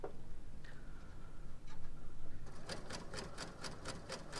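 A Bernina L890 sewing machine feeds fabric strips through a 36mm binder attachment, starting with a soft whir and settling into a quick, even ticking stitch rhythm, close and fairly quiet.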